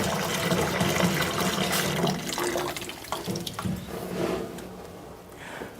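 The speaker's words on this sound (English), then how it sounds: "putting the water in" About three quarts of water poured into a small-batch machine, a steady running splash that fills most of the clip, then thins out and trails off near the end.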